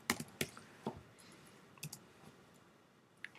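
Computer keys clicked in a short, irregular burst of sharp taps, a few close together and then sparse single presses, close and fairly faint against a quiet room.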